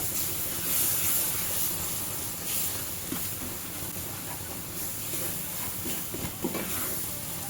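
Cold milk poured into hot roasted besan (gram flour) for modak, giving a steady close hiss and steam sizzle throughout, with a few soft clinks of a spoon near the end.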